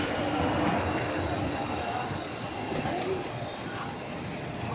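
A long train rolls past toward Grenoble in France, a steady broad rumble of wheels and carriages that holds close and loud throughout, with a faint squeal on the rails.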